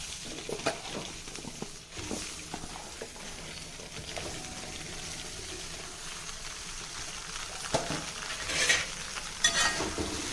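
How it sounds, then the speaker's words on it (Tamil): Okra dropped into hot oil and frying, a low, steady sizzle broken by a few sharp stirring clatters and splashes, close but fairly quiet, with no talk. "இப்போ எண்ணெய் நல்லா டக்குன்னு சூடாயிடுச்சு பாருங்கள் இப்போ இந்த வெண்டைக்காய் இதில் போட்டுக்கலாம்"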